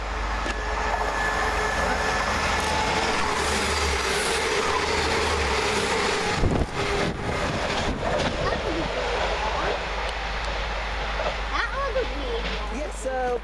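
Two coupled Class 172 diesel trains, 172102 and 172008, passing through Barnt Green station, a loud continuous rumble with rail clatter and a brief thump midway. People talk over it throughout.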